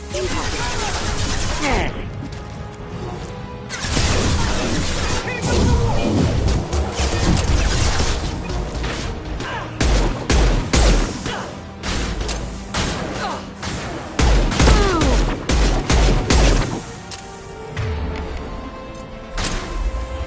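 Gunfire and impacts in Mass Effect 2 combat: repeated loud shots, thuds and crashing bursts packed densely together, with voices talking at moments amid the chaos.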